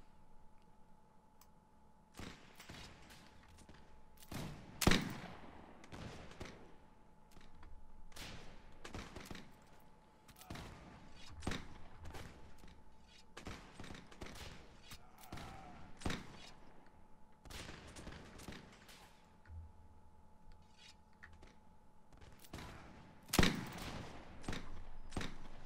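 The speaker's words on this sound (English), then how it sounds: "Still a few people shooting" Musket fire during a siege in the video game Mount&Blade cracks out in scattered, irregular volleys, some shots close and sharp, others softer and distant, over a low steady hum.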